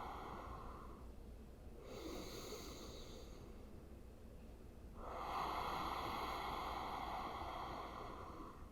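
Slow, deep yoga breaths, one long drawn airy breath followed by a fuller, louder breath, close to the microphone in a quiet room with no talking.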